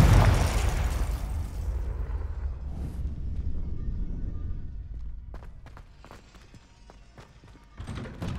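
A Confringo blasting spell detonates in Hogwarts Legacy with a loud, broad boom that rolls off over several seconds, followed by scattered crackles and debris ticks, then a second burst near the end.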